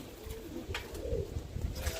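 A roller pigeon coos in low, soft repeated pulses close by, with a steady background hiss and a few faint clicks.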